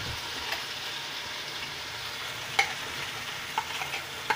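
White chana pulao fries in a pan with a steady, close sizzle, broken by a few sharp clinks of a utensil near the end.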